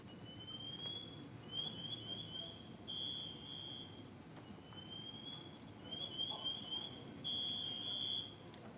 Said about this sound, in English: So that's what the pass alarm sounds like.